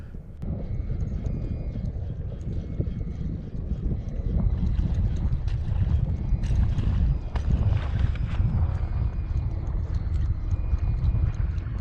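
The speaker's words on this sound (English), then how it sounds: "I'm right near a boat channel, so there's definitely boat noise" A motorboat's low engine rumble passes nearby on a boat channel, swelling louder midway and holding, with water slapping and wind noise throughout.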